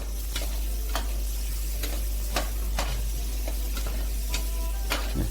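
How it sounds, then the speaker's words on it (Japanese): Green beans stir-fried in a pan for paella, a steady close sizzle with repeated scraping strokes of a spatula at a regular rhythm, no voices. "お野菜、今回インゲンですね、これも入れて軽く炒めます。"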